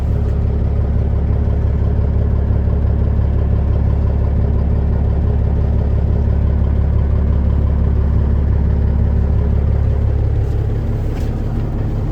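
A 2019 Peterbilt 389 glider semi truck's Cat diesel engine running close by with a deep steady rumble, the pitch shifting slightly as it revs and settles toward the end.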